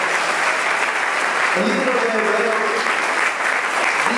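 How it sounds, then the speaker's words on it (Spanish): A church congregation claps loudly in a thick, continuous roar of hands, with a voice briefly speaking over the middle of it. "Den un aplauso fuerte al Señor."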